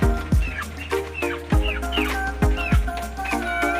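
An African white breeder chicken clucks close by in a series of short, sharp calls. Other fowl make fainter chatter in the background.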